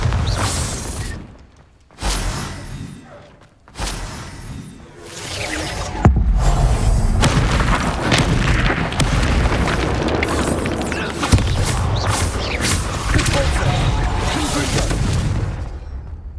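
Bombarda spell explosions in the Hogwarts Legacy video game, heavy booming blasts and crashing impacts in rapid succession during a fast battle, loud throughout with brief lulls early on.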